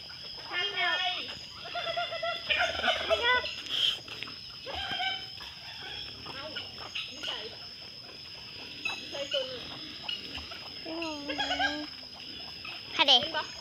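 Turkeys gobble on a village farm among other poultry, sounding as short, harmonic, rattling calls scattered through the clip, with one sharp burst near the end, under a person talking almost throughout.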